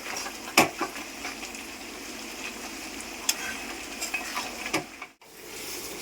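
Quail meat masala sizzling softly in oil in a pan while a spatula stirs it, with scattered scraping clicks over a steady low hiss, no voice.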